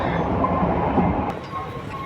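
Continuous low rumble and hum of a moving train heard from inside a carriage, steady and fairly loud, with faint murmuring in the background.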